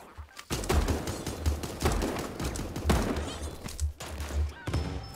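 Shotgun blasts in an online multiplayer shooter game, several loud booming shots in quick irregular succession with chaotic gunfire throughout, close and dominant.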